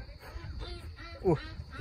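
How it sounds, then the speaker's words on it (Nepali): Chickens and ducks calling on a small village farm, with one brief nasal quack-like honk rising out of low background noise near the middle. "यहाँ कुखुरा हाँस कराउँदैछ नि।"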